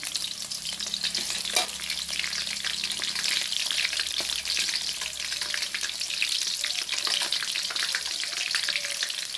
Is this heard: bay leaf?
yes